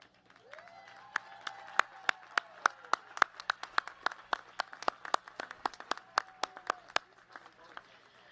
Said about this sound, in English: please rise as you're able so we may applaud your achievement